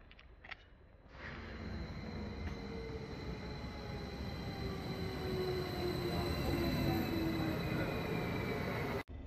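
Steady rumble and hiss of a train interior on a ride toward Münster Hauptbahnhof in Germany, continuous and close, with faint squealing tones and a brief knock near the start.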